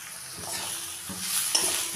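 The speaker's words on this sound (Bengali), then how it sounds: "সেদ্ধ করা বাঁধাকপিটা নুন হলুদ দিয়ে ভেজে নেব" Boiled cabbage frying with salt and turmeric in a pan, a steady close sizzle with soft stirring scrapes and a brief clink near the end.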